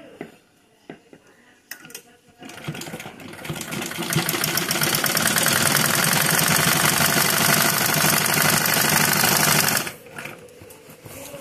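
A sewing machine runs steadily while stitching a six-panel petticoat: a few short taps at the start, then a sustained, loud, rapid mechanical whirring and clatter for several seconds before it stops abruptly.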